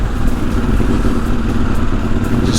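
KTM motorcycle engine running at a steady idle or low speed, a dense continuous rumble with clatter, loud and close, with no voices.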